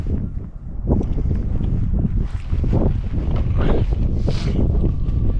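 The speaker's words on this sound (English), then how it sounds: "Wind's picking up a bit now, so I'm getting close to the top of the ridge" Strong wind gusts near the top of a ridge on open military ground, buffeting the microphone with a loud, continuous low roar that swells and eases, with no speech.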